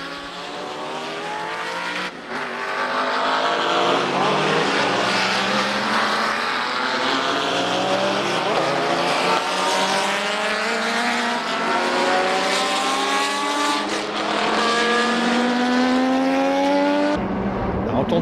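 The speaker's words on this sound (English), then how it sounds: "off for race 1, but everyone is on full wets as Law, Pearson and Mercer lead" Group C and GTP racing cars, including Porsches, an Intrepid Chevrolet and a 1989 Aston Martin AMR1, scream past on the wet Brands Hatch circuit, layered high engine whines rising through gears, loud and continuous before cutting off abruptly.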